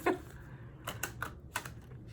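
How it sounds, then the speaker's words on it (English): A tarot deck being shuffled by hand, soft close card flicks in short irregular bursts over a faint room hum. "I've been shuffling this deck for what, the past 7 minutes."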